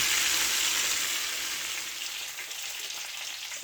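Food frying in vegetable oil in a skillet, a steady bright sizzle that fades slightly toward the end, heard alone without talk.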